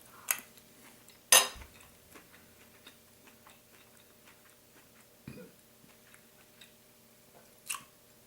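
Quinoa with cherry is eaten with cutlery: sharp clinks of utensils against a dish, scattered soft ticks and chewing sounds, close and quiet with long pauses between the louder scrapes.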